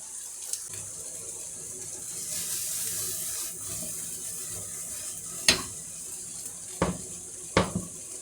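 Pasta cooking water poured into a pan of fried zucchini and garlic, a soft watery sizzle under a high steady hiss, with a few sharp utensil knocks near the end.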